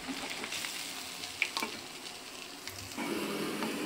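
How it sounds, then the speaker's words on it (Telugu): Minapa vadalu, urad dal vadas, deep fry in a pan of oil with a close, even crackling sizzle, broken by a few soft clicks as they are turned. The bubbling swells slightly louder near the end. "నీట్గా ఒకటికొకటి విరిగిపోకుండా నీట్గా తిప్పి డీప్ ఫ్రై చేసుకోవాలి"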